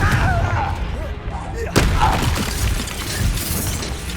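Confringo blasting spell cast during a wizard duel in Hogwarts Legacy, a sharp explosive crack near the middle of the clip over dense battle effects and a voice calling out spells.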